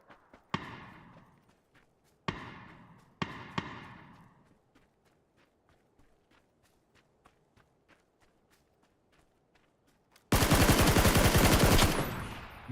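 Sniper rifle shots in PUBG ring out sharply three times near the start, each with a long decaying echo, followed by soft tapping footsteps and then a dense burst of continuous noise near the end.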